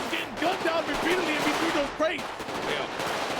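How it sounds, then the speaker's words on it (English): Video game gunfire rattles in repeated bursts amid a busy combat soundscape, with voices talking over the shooting throughout. "There's three civilians just getting gunned down repeatedly in between those crates."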